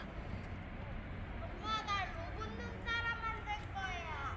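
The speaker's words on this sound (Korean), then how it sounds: "아이들 소리도 나고 오랜만에 참 정겨운 마당입니다." Children playing outdoors in a snow-covered yard: faint, distant young voices calling and chattering in short bursts over a soft background hiss, with no nearby talk.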